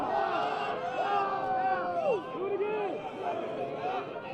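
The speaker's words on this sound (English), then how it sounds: "Draws some ire from the crowd." A crowd at a high school baseball game, Lobos at Guyer Wildcats, jeers at a pickoff throw to first base. A steady mass of raised voices and shouts swells briefly near the middle and then settles back into a continuous babble.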